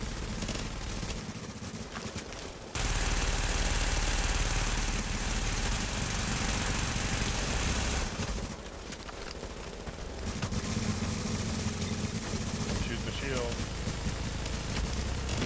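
Blind-fire gunfire in The Division video game: long, dense stretches of sustained automatic fire with short gaps between them, loud and close, while players talk over it.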